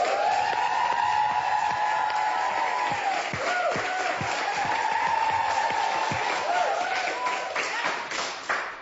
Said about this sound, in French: vous méritez une immense main d'applaudissements